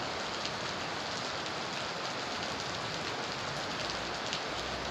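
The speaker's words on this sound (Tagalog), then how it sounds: "grabe ng lakas ng ulan Ayan mga idol ang lakas ng ulan dito sa ating lugar" A steady, dense nighttime downpour in Fugoso, Manila hisses without a break, heavy rain pouring down evenly throughout with no voices.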